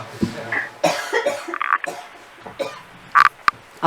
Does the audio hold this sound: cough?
yes